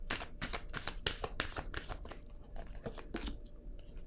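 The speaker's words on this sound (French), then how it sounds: "Je vais déposer une autre carte." Tarot cards shuffled and laid down during a reading, a dense run of quick papery flicks and snaps that thins into a few scattered taps, close and fairly quiet with no talking.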